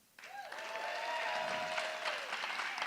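A live audience at a Pecha Kucha talk night bursts into clapping and cheering, starting abruptly and holding as a dense, lively wash of applause with a few shouts over it.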